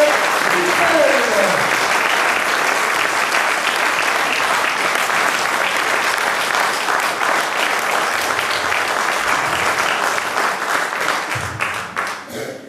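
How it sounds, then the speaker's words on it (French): Sustained audience applause at an amateur theatre comedy presentation, a dense, steady wash of many hands clapping throughout, loud and continuous, with a few voices mixed in before it thins slightly at the end. "Vous avez pu l'applaudir pour la première fois à Mesquer, Véro la styliste"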